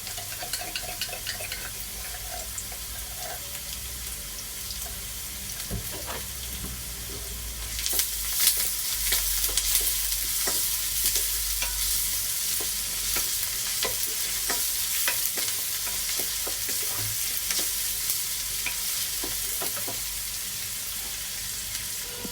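Ginger garlic paste frying in oil and being stirred in a pan while cooking beef keema, a steady soft sizzle with frequent scraping and clicking from the spoon, growing busier midway, with no voices.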